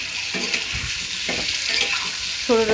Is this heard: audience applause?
no